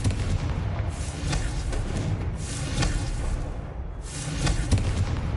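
Confringo spell blasts detonate in a mine in the video game Hogwarts Legacy, with three loud booming explosions in quick succession, each followed by rumbling debris.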